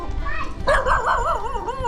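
A dog in a village at the foot of cliffs barks and yelps in a short, wavering, whining run of cries, close and fairly loud, with a human voice alongside.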